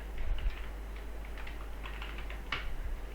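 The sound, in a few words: typing Python code on a computer keyboard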